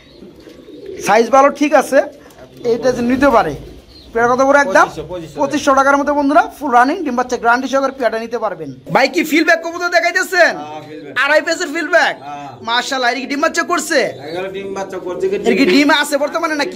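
Pigeons coo in repeated throaty bursts close by in a pigeon-selling setting, overlapping with someone talking throughout.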